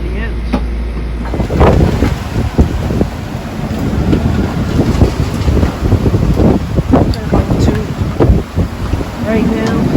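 Strong wind blowing 30 to 35 knots over a sailboat at sea while crossing the Atlantic toward the Azores, a loud steady roar with rushing gusts and microphone buffeting throughout.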